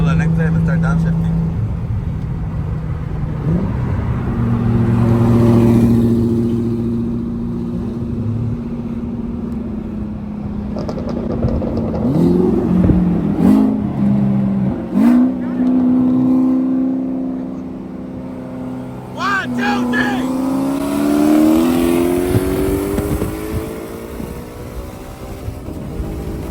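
Turbo Nissan 350z engine revving during downshifts on a street-race outing, with rising and falling engine tones, blips and a throaty drone heard from inside the car, steady and moderately loud.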